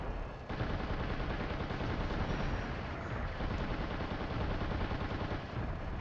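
Mech cannon fire in the Xbox mech simulator Steel Battalion, a loud, dense barrage of rapid gunshots and booming impacts continuing almost unbroken after a brief quiet start.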